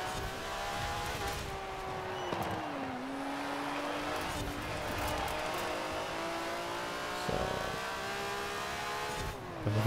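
A race car in Forza Horizon 4 accelerates hard, its engine note climbing steadily through the revs with a brief dip at a gear change, loud and continuous with no voices.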